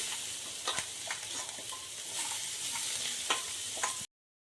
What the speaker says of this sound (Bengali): এবার তাতে আমি উজানো পেঁয়াজগুলো দিয়ে দিচ্ছি